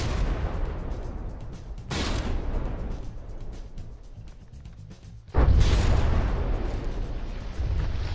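Artillery fire strikes a rear turret in the From the Depths naval combat game, with heavy booms and blasts landing over a constant rumble and a louder impact near the end.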